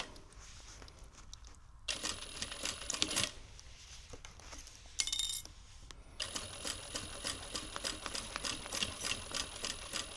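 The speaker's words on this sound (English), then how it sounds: "just sew along that seam" A home sewing machine stitches along a seam of a beginner fabric phone and tablet stand, running in bursts of rapid mechanical clatter separated by brief pauses, close and fairly quiet.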